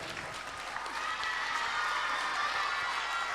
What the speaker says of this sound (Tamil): மிகப்பெரிய ஒரு கைத்தட்டலோட